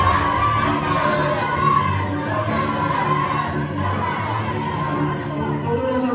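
A crowd of performers shouts and clamors together during a musical stage drama about tearing the Dutch flag at Hotel Yamato, a dense, loud, continuous roar of many voices with some higher children's shouts.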